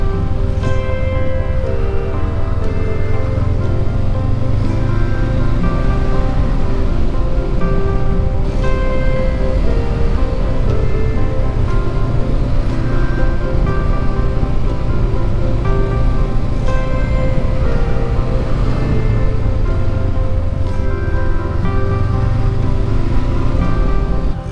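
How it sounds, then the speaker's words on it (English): A small waterfall in Oregon at a motorcycle camping spot, giving a loud, steady rush of falling water that stays even and unbroken from start to finish, with no talking. "Little waterfall that goes all the way up in there"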